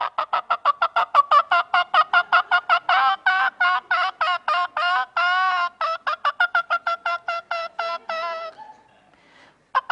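A run of rapid, loud clucking calls from a single hen, delivered in quick, evenly spaced bursts for about eight seconds before stopping, followed by a brief faint call at the end.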